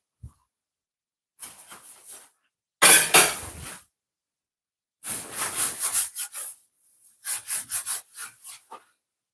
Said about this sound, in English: When you're using wooden cutting board like this, you have to have these devices. So they're made for it. Scrape him off.